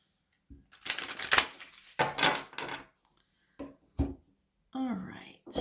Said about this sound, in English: Let's get a good shuffle on these.